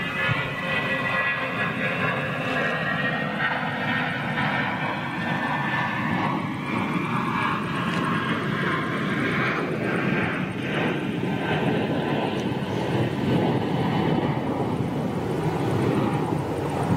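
A Douglas DC-8 jet airliner roars at Toulouse, a loud, sustained broadband engine rumble with a slowly shifting whine as it passes, steady for the whole stretch.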